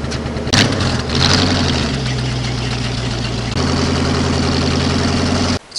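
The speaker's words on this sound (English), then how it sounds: "It's a 195 horsepower Cummings engine." A 195 horsepower Cummins diesel engine that powers a sawmill runs steadily up close with a deep, even rumble, and there is a brief shift in its tone midway through.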